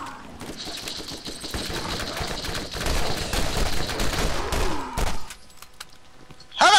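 Rapid gunfire fills a Borderlands shootout, dense bursts and single shots rattling loudly for several seconds before a brief lull and a final sharp blast.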